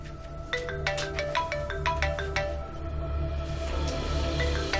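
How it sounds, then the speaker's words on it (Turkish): A phone rings indoors in a Turkish domestic drama scene, a repeated electronic ringtone pattern of short tonal bursts sounding steadily over a low background hum, with no talk. "Telefon çalıyor işte sar mısın?"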